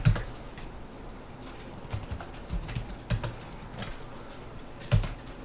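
Keys clack on a computer keyboard as commands are entered in AutoCAD, scattered soft taps with a few sharper presses, close and quiet in an otherwise calm room.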